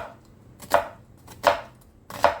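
A knife chops through a sweet onion on a cutting board: three crisp, close thuds spaced roughly evenly, with quiet pauses between them.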